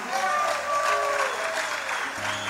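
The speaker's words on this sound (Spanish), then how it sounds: "dale un fuerte aplauso." Congregation applauding during a church sermon, a steady wash of clapping with voices and a sustained musical tone running underneath.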